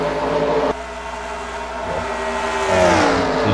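Stock race cars drafting in a racing video game produce a continuous engine drone with rising and falling pitch as the cars run together, steady and moderately loud throughout with no talk.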